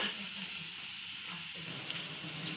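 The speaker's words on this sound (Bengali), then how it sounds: "এবার বাটার দিয়ে দিলাম কড়াইতে" Butter melts in a hot wok, giving a steady close sizzle and crackle of frying fat that continues evenly without speech.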